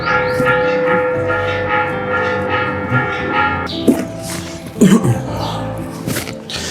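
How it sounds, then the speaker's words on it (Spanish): Church bells ring out across a town in a layered, sustained metallic peal with overlapping tones. Later, irregular knocks and clanks break in while the ringing continues. "ya nos sonaron las campanas, así que vamos a esperar un poquito que pasen las campanas"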